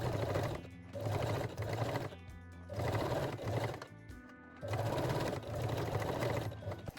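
A sewing machine runs a straight stitch on a cosmetic pouch in several steady bursts of rapid mechanical chatter, each lasting about a second with short pauses between, close and clear with no talk.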